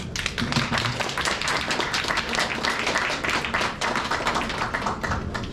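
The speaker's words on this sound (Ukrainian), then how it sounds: "Оплесків!" A crowd claps and applauds steadily and loudly throughout, a dense, continuous patter of many hands with no pauses.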